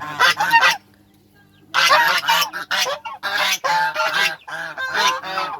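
A goose kept to guard a poultry pen honks loudly and close, in repeated harsh bursts of several calls with one brief pause, no talking over it.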